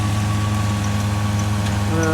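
A New Holland 3630 tractor engine runs steadily with a constant low, droning hum and steady harmonic tone, close and unbroken throughout, pulling a reaper in the fields.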